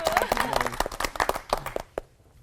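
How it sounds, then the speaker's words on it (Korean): An audience at a Korean Christian broadcast gathering applauds before a hymn, a sparse, uneven run of claps with a voice partly under it, then the claps taper off. "박수로 청해 듣겠습니다."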